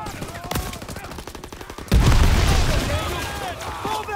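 Sustained WWII battlefield gunfire in Call of Duty: WWII, a dense barrage of rifle and machine-gun bursts with booms that swells sharply midway and stays loud, mixed with shouted voices.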